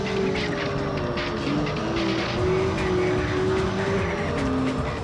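The Mazda RX-7 FC engine in the PS2 racing game Wangan Midnight screams near the rev limit at high speed. The pitch wavers slightly as it holds a steady, loud whine, with no talk.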